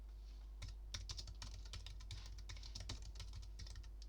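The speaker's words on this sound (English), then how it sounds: "I can just highlight the text that's in here and type in Walt Disney" Fingers type text on a computer keyboard, a brisk irregular run of close, crisp key clicks with brief pauses, alone over a low steady hum.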